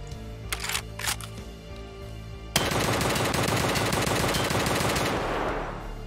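Rapid automatic fire from an RSASS rifle in Escape From Tarkov bursts out loudly after a couple of quieter mechanical clicks, sustaining a dense rattling stream for several seconds before tapering.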